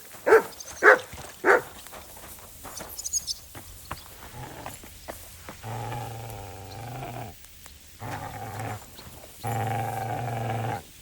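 A dog in Kingdom Come: Deliverance II gives a few sharp barks and then low, rumbling growls in three sustained stretches, close and fairly loud.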